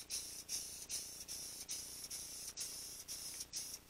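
SEM interior paint in Light Buckskin being sprayed on S10 Blazer interior parts, heard as repeated short hissing bursts in a steady rhythm, close and fairly quiet, with no voices.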